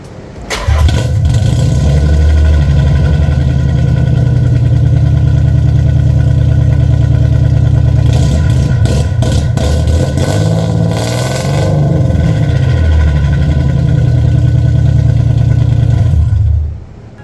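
A car engine fitted with cheap mufflers, likely a '90s Honda Civic, revs loudly and continuously with a droning, buzzy exhaust tone that swells and eases over several throttle blips, close and alone.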